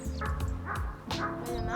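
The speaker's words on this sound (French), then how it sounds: "Ça, c'est un chien, ça." A dog gives several yappy barks and whines in quick succession, close by and moderately loud, with harmonic, tonal cries.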